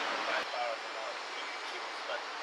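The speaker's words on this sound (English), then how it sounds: "I'm going to do a 5-second brake application." A class 1 truck's air brakes are applied from the cab, releasing a steady rushing hiss of air that holds evenly for a couple of seconds.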